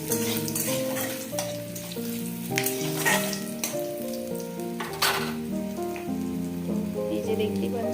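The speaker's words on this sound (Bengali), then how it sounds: "আমি রসুন দিয়ে দিলাম তেলের মধ্যে। এখন রসুনটা একটু ভাজা ভাজা করে নেবো।" Garlic sizzles in hot oil in a home kitchen, a crackling, rain-like frying sound with a few sharper pops and stirring. Steady tonal music plays underneath.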